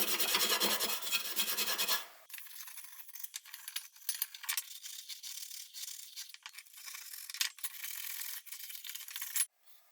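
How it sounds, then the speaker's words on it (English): Motorcycle parts from a CRF50 build are scrubbed with Scotch-Brite to remove rust, producing loud, dense rasping strokes at first, then lighter, scratchy rubbing with small clinks, close up and without talk. "rough them up with some Scotch-Brite, get any loose, dirt and rust off of it as much as I can."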